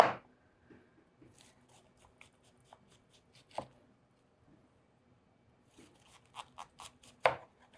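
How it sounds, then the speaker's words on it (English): Knife slicing a head of cauliflower into thick steaks on a cutting board, heard as a few scattered crisp crunches and sharp cutting strokes, with a louder cluster of chops near the end against a quiet background. "I'm gonna cut it into steaks so that I get smaller pieces of cauliflower with good surface area"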